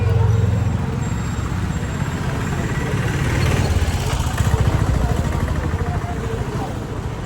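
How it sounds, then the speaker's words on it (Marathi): Vehicles pass close by on a busy road near a school, a steady engine drone and rumble with a motorcycle-like idling texture that swells in the middle, while people talk over it. "अगदी जवळून गाड्या जातात बघ."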